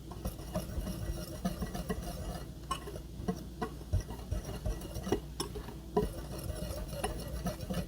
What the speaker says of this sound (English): I'm going to give that a little whisk to make sure that it's well combined